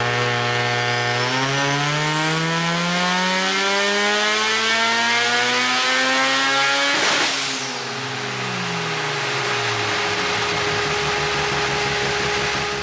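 A turbocharged Datsun engine on a dyno climbs steadily in revs through a long, loud pull, its harmonics rising together before it abruptly lifts off and drops back to a lumpy, burbling idle.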